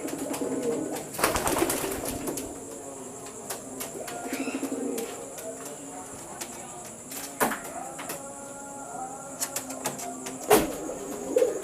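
Pigeons in an Indonesian kolong-style loft give low, soft coos scattered through the clip, with a few sharp knocks and bursts of wing flutter nearby, all fairly quiet against a steady background hum.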